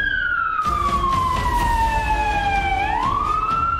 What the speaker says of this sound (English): There's a siren. Do you hear that? It's getting closer, too.